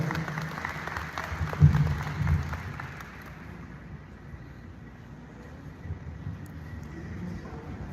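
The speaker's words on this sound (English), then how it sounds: "Let's give him also a round of applause" Applause from a crowd, loudest in the first few seconds and then tapering to a softer patter of clapping with steady background noise.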